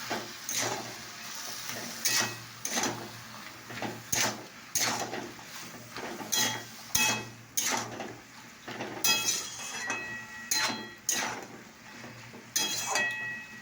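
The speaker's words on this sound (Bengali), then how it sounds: "এবার আমি নাড়া করছি, দেখে নিই।" A spoon scrapes and knocks against a cooking pan as cumin and chilli powders are stirred in, repeated metallic clanks and scrapes in an uneven rhythm, close and fairly loud.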